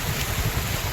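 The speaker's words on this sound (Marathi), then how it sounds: "समुद्र किनारा." Sea waves wash onto the beach at Shrivardhan, a soft, continuous low surf blended with wind rumble, steady and fairly faint.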